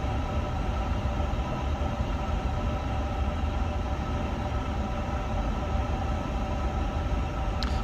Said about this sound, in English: So we can start engine one now.